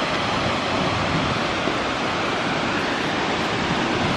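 An Icelandic waterfall roars as a loud, steady, broadband rush that never lets up, heard alone without voices.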